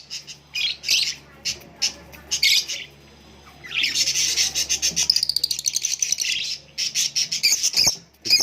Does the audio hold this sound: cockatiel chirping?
yes